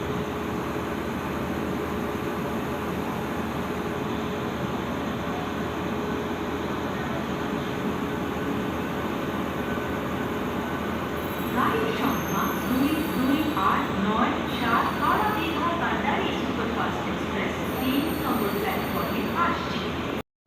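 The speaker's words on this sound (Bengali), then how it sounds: "ওই ট্রেনটা হচ্ছে লোকাল ট্রেন, সম্পূর্ণ লোকাল ট্রেন।" Late-night railway junction with a local train, a steady, loud rumbling drone of engine and carriages with faint metallic clanks in the latter half and indistinct voices in the background.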